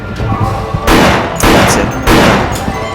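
Three gunshot bursts from Resident Evil: The Darkside Chronicles, a rail-shooter game, cut through a noisy backdrop of game music and ambience at roughly even intervals, each a loud broadband blast.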